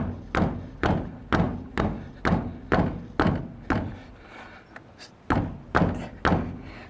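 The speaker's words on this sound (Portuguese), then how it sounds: "Eu vou usar a mão. Vou bater." A hand slaps hard against a car's front suspension, behind the wheel, checking for loose parts: about ten heavy, evenly spaced thumps with a rattly tail, close and loud, with no talk over them.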